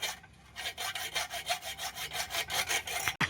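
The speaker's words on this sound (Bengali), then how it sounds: "কারণ হলো নাটগুলো খুলছে না, সেই জন্য নাটগুলোকে কাটতে হবে" Stuck nuts are sawn off by hand, a close, loud, steady back-and-forth rasp of about a dozen even strokes that ends in a brief thump.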